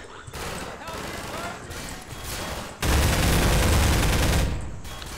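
Firefight in the video game Half-Life 2, with dense, loud bursts of automatic gunfire and heavy impacts rolling continuously, swelling to a sustained roar midway, while people talk over it.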